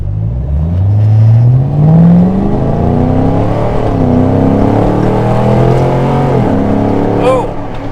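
The 319-horsepower engine of a 2007 Ford Mustang Shelby GT roars close by, its pitch climbing steadily as it accelerates hard and shifts up through the gears.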